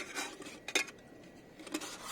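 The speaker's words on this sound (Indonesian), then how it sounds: "Dan kalau buka, di dalamnya pun ada panci lagi." Nested Mont-bell cook-set pots are opened and handled, giving a few quiet metallic clinks and knocks spaced about a second apart.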